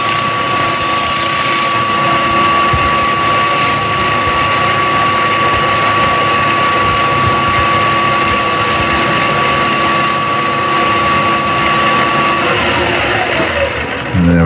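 A wood lathe spins a vase as it is polished with carnauba wax polish, giving a loud, steady high whine over a motor hum that winds down in pitch at the end.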